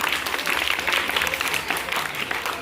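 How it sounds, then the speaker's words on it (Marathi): A room of people clapping to cheer during a school election vote count, a dense, continuous burst of applause, fairly close and steady, with no clear talking. "आपण सुद्धा त्यांचा टाळ्या वाजवून या ठिकाणी उत्साह वाढवणार आहोत"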